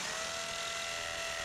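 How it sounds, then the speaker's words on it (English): A power drill with a wood bit bores a pilot hole through wood over brick, a steady high-pitched whine running continuously without pause. "I'm using a wood drill bit to start the pilot hole"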